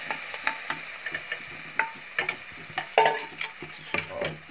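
Tomato puree tipped into a hot pan for restaurant-style malai kofta gravy, then stirred and fried over a low flame: soft sizzling under irregular scraping and tapping stirs, close and fairly quiet.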